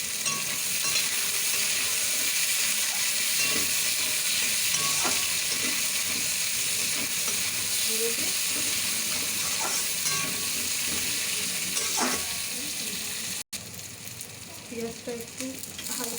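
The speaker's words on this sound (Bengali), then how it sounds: "পেঁয়াজটা একটু হালকা ভাজা ভাজা হয়ে গেছে, পেঁয়াজ টমেটোটা।" Chopped onion and tomato frying in oil in a pan for a chicken curry, a loud continuous sizzle with occasional stirring clatter, broken by a brief cut near the end.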